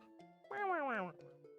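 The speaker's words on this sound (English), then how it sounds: "My cat is right here." A cat gives a single drawn-out meow, rising then falling, close by and fairly quiet over a faint background hum.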